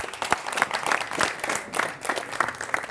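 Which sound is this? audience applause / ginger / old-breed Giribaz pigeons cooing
audience applause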